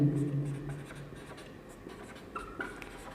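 Chalk or marker scratches across a classroom board in short strokes, faint and close, with a voice speaking over the start.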